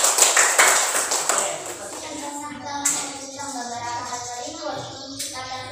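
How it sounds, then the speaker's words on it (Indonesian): Classroom students clap for a group presenting its work, with a burst of close, crisp hand claps at the start that fades as a voice begins speaking over scattered taps. "Berikan tepuk tangan dulu untuk kelompok 1."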